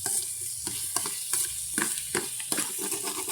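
Egg with tomato frying in a smoking-hot pan, sizzling steadily while a utensil stirs and scrapes it in quick irregular strokes, close up with no voices.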